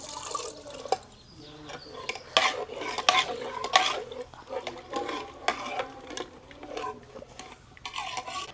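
Gravy cooking in a pan is stirred with a spoon, giving repeated scraping strokes and wet bubbling, with a soft simmer underneath and moderate closeness.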